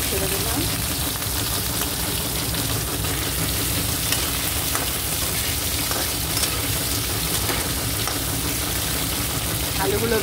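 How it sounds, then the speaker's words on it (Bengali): Potatoes fry and get stirred in a pan while cooking, a steady close sizzle running throughout with occasional scrape and clatter of stirring. "আলুগুলো বেশ লাল করে ভেজে নেব।"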